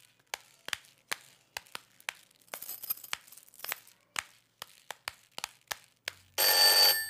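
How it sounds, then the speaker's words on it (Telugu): A telephone rings in an office room during a Telugu comedy film scene. A brief bright ringing passage sits among a string of sharp tapping clicks, and a loud burst of noise follows at the end. No one speaks. "ఫోన్ రింగ్ అవుతూనే ఉంది"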